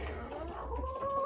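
Hens on a small farm cluck in a short, close burst, soft murmuring calls rising into a clearer sustained note near the end.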